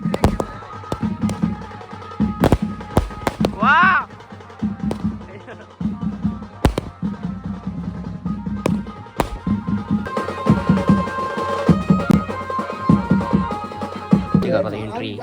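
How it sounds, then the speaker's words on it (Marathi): Firecrackers burst in quick irregular bursts of sharp cracks near a house, one whistling rocket climbing amid them, with people chatting over the noise. "फटाके वाजवायची ऑर्डर देता येईल."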